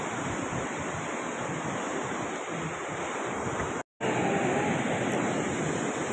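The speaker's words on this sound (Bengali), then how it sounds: "ড্যামটা দেখতে পাচ্ছ কত সুন্দর জল যাচ্ছে" Water pours through a large dam in a steady, broadband roar, loud and continuous, with a brief dropout near the middle and no talking.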